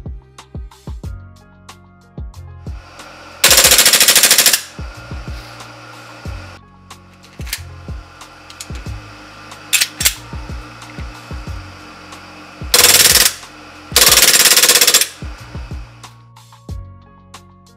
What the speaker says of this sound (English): Here's a quick comparison of the stock spring guide against my short stroked spring guide.